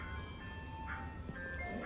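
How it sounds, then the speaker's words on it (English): An ice cream truck passes in the distance, its tinny chiming melody faint beneath a steady background of traffic noise, with no talking. "excuse the ice cream truck"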